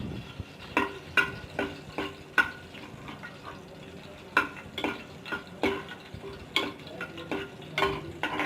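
Curry leaves and whole red chillies frying in hot oil for a karhi pakora tadka, with a steady low sizzle broken by repeated sharp clinks and scrapes of a spoon against the pan, no talking.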